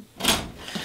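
A door being opened indoors, a single close wooden creak and rub with a brief scrape, heard alone without voices.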